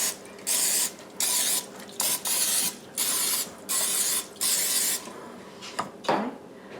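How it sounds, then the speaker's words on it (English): Cooking spray from a can hisses into a muffin tin in repeated short bursts of roughly half a second, close and fairly loud, separated by brief pauses, ending with a faint clink. "spraying our muffin tin"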